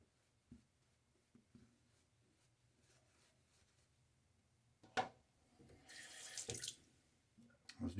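Tap water runs as a shaving razor is rinsed, starting as soft, faint splashes and light knocks, then swelling into a louder, hissing stream for a couple of seconds before a few sharp taps close it out.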